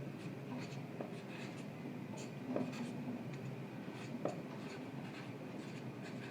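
Pen or pencil writing by hand while a trigonometry problem is worked out, with soft scratchy strokes and taps going on steadily at close range under quiet background hiss.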